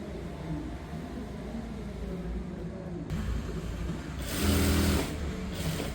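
A sewing machine hums and whirs steadily while stitching a garment seam, a low continuous motor drone that swells slightly near the end.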